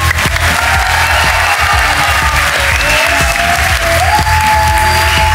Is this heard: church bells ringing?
no